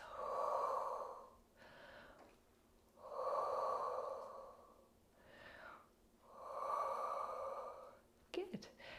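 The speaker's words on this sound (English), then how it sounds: "Deep breaths." Slow, deep breaths during a Pilates hamstring stretch on a mat, three long soft exhalations in steady rhythm, close and quiet, with a brief rustle at the end.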